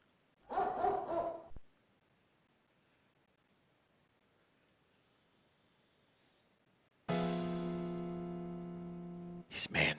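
Lenny the dog barks in the detective game Jake Hunter Detective Story, a short loud burst at first, then long quiet, then a sustained tonal stretch and a sudden final yap.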